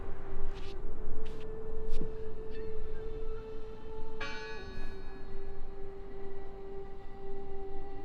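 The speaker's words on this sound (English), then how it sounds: "I heard the bell." Church bell ringing in the video game Draugen, a few brief resonant strikes over a steady low drone and ambient background, with a sustained tonal hum running throughout.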